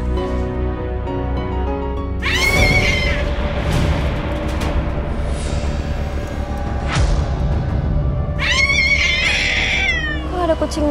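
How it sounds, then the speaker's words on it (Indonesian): Cats fighting in front of a house, with loud yowling caterwauls and meows in two bursts over a steady background hum, while people talk nearby. "Kok ada kucing berantem depan rumah sih?"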